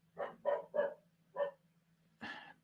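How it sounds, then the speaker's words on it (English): A dog barks in the background of a live football match reaction stream: four quick, moderately faint barks, a pause, then one more, heard alone with no talk. "Dog's barking in the background"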